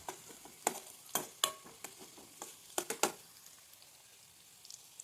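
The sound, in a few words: green chillies and garlic sautéing in oil for date pickle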